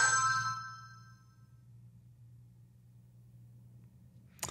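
A phone plays a Speed Wallet bitcoin app notification on receiving sats: a single bright chime that rings out and fades over about a second, then gives way to a low steady hum and a faint click.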